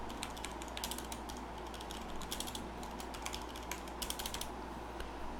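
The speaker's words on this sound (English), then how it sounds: "some keyboard ASMR in the meantime" Keys clatter on a computer keyboard while someone types messages, a close, uneven run of sharp clicks in quick bursts, with no voices.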